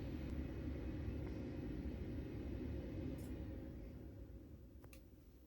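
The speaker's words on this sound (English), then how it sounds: "That's the motor giving you a massage." The motor of a Medi Neck 3-in-1 neck traction massager hums as a low, steady rumble that slowly fades toward the end, with a couple of faint clicks and no talking.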